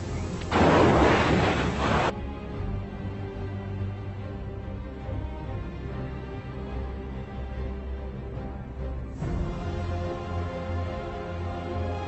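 Heavy artillery fire in a war setting: a loud, rumbling blast burst at the start gives way to a sustained low boom and roar, then another surge of rumbling near the end, with no voices.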